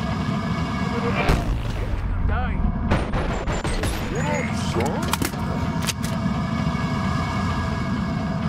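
Heavy cannon blasts boom a few times in the video game Boneworks, separated by gaps, over constant game noise with faint voices.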